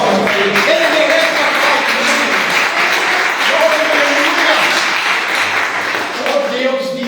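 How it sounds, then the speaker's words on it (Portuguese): Congregation clapping during a church service, a dense continuous wash of applause lasting throughout, with a voice speaking and calling out over it. "Palmas para Jesus, irmão."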